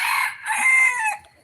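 A small Sebright hybrid rooster crows once, close and loud, a shrill two-part call lasting just over a second, perched in a walnut tree at dusk.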